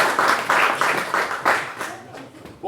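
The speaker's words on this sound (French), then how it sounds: "Merci, on leur applaudit." An audience at a LEGO fan convention talk in Lyon claps together in a short burst of rhythmic, fairly loud applause that fades out after a couple of seconds.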